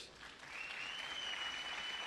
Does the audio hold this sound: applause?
yes